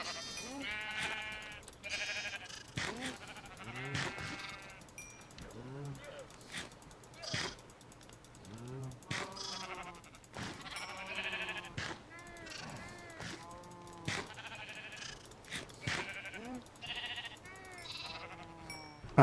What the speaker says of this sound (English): the water makes the sheep jump,